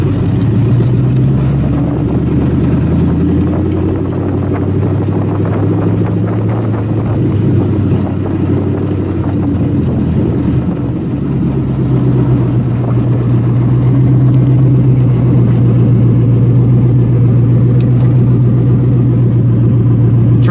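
A Mazda RX7 FD swapped to an LS V8 engine runs and drives, a continuous deep engine drone and rumble with slight rises and dips in pitch, loud and close with no talk.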